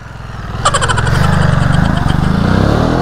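A Ducati Monster 937 engine catching and then idling loudly up close, with a fast, even throb pulsing steadily after a brief rising start.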